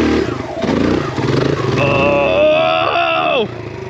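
A Kawasaki KLX140RF dirt bike revs hard while climbing a steep enduro hill, its engine note rising and then cutting off sharply, loud and close.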